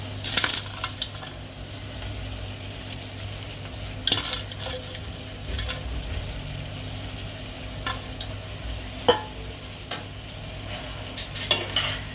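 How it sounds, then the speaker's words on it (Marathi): Fried potatoes are stirred into gravy in a pan for chilly potato, with soft scraping and occasional clinks of a spoon against metal over a steady low kitchen hum, without talking. "आता आपण हे फ्राय केलेले पोटॅटो आपण या ग्रेव्हीमध्ये मिक्स करणार आहोत."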